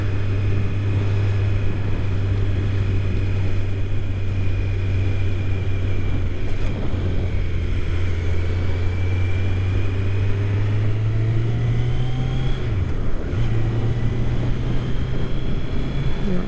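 A 2019 Kawasaki Z900 ridden on the road, its four-cylinder engine holding a loud, steady drone that rises in pitch and then briefly dips as it shifts, with constant wind rush.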